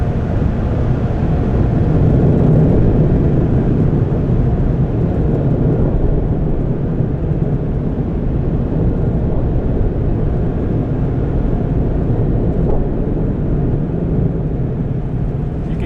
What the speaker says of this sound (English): Now we go through a rinse process, and these incredibly strong drying blowers here.